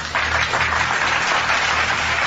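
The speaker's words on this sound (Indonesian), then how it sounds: "tepuk tangan untuk Bang Suma." Crowd applause at a religious discussion event in Indonesia, a dense burst of clapping that stays loud and even across a couple of seconds.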